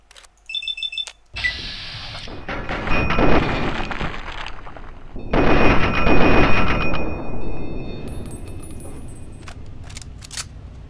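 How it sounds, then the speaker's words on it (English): Assault rifle fire in Fallout 3 during a Brotherhood of Steel mission, loud bursts of automatic shots in two main stretches, with electronic beeps and game interface tones around them. "Assault rifle."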